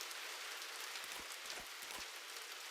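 Steady hissing rain falls in the video game An English Haunting, continuous and even, with three soft low thumps breaking in near the middle and no voices.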